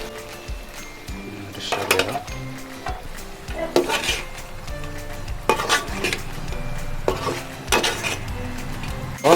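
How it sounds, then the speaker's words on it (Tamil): Fried chicken wings are stirred and tossed in honey sauce in a pan, with repeated scraping sweeps and clinks over a soft sizzle. "போட்டு நல்லா ஒரு மிக்ஸ் கொடுத்தோன்னா"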